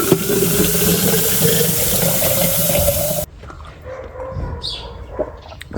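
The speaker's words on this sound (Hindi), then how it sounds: "ये जो है ये पब्लिक टैप है, और ये रिवर का फ्रेश वाटर है जो ऊपर हिल से आ रहा है" Fresh river water from the hills running out of a public tap in Morocco, a steady loud gush that cuts off abruptly, leaving quieter outdoor sounds and a brief dog yip.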